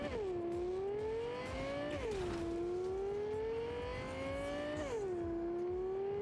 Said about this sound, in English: I like that car. Sounds nice.